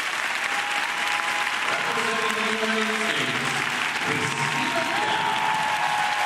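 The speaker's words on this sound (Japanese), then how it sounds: "拍手も一層大きくなりますね。" Dense, steady applause from an arena audience fills the whole stretch after a figure skating short program at the 2012 Skate America event, with faint tonal sound running underneath the clapping.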